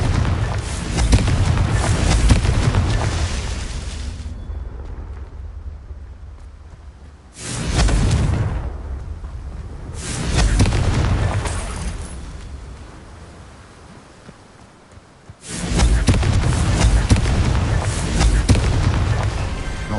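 Confringo fire spell explosions in a PS4 video game: four loud booming blasts arrive in separate bursts, each swelling and then dying away into quieter gaps.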